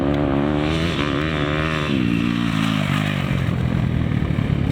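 A motocross motorcycle rides out of a berm, its engine note loud and close, rising and falling in pitch as it powers through the corner and fades into rougher noise.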